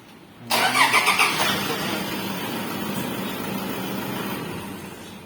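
A Toyota Vigo pickup truck engine cranks and catches after a push-button start with the brake pressed, a brief loud surge that settles into a steady idle, close by.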